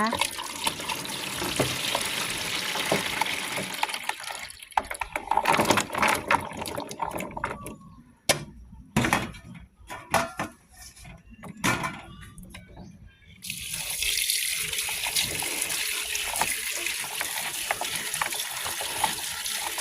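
Soaked oroxylum (pheka) pods are rinsed in water at a sink, with running and splashing water that stops briefly midway before a steady gush returns, while someone talks over parts of it.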